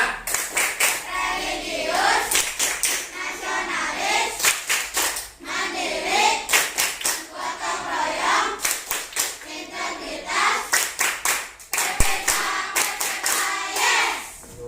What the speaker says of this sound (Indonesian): coba sekarang tepuk PPK